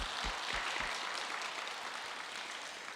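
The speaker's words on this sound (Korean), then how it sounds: "우리 하나님께 박수로 영광 올리겠습니다." A church congregation claps together in a dense, continuous patter that sounds somewhat distant and soft and holds steady throughout.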